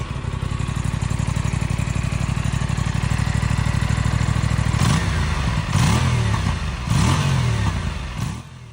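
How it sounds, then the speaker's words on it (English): An Aprilia Tuono 457 motorcycle exhaust idles steadily and deep up close, then gets several short throttle blips in neutral near the end, each rising and falling back. "You rev it a little in neutral and it sounds meaty, and on throttle releases it gives really nice tiny burbles."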